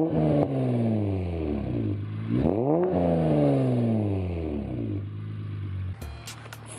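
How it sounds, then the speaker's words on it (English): A car engine fitted with a K&N cold air intake revs hard, rising and falling in pitch through several loud, close pulls before settling to a steady idle, with a brief clatter near the end. "Let me rev the engine real quick, show you guys how loud it is."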